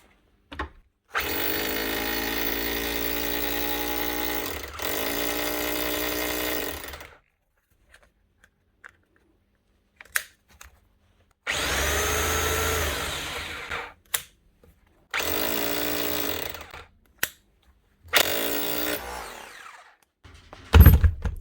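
An old 2003 Bosch GBH 4 DFE SDS+ hammer drill runs after a full service and regreasing, loud bursts of motor whine and hammering, several seconds each, separated by silences and short clicks as the trigger is released.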